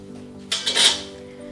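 A lid set onto a pot of Kerala fish curry made with tingiri fish and no coconut, giving a short metallic clatter and clink of about a second, close by over a quiet background hum.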